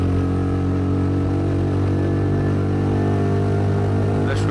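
A motorcycle ridden at steady, restrained speed, its engine droning loud and close with a constant harmonic hum and wind, no talk over it.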